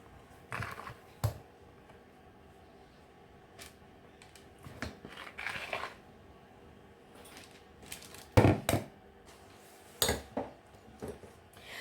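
Cake batter for a Madeira cake being scraped from a bowl into a cake tin with utensils: scattered quiet clinks, taps and scrapes in irregular bursts, with no talking.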